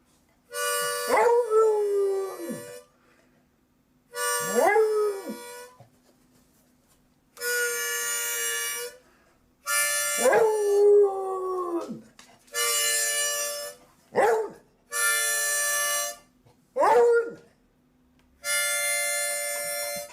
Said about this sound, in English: I had this video, my dog singing.